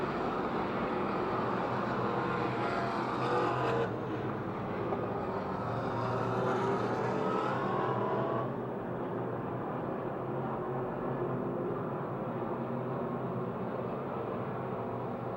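Stock cars race at Pennsylvania Motor Speedway near Pittsburgh, heard as a faint, distant engine roar that swells and fades as the cars pass, with no talk.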